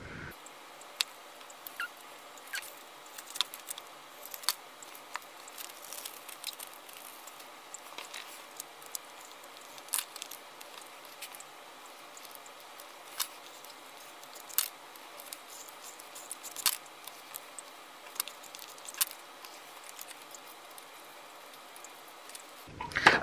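Scissors cut out a paper circle for a bullet journal page, producing a long run of small, irregular snipping clicks, close and fairly quiet, with no talking.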